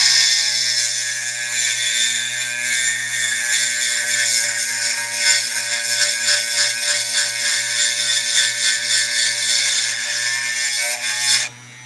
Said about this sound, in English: This is an 80 grit sintered diamond bit, and it is the coarsest one that I have.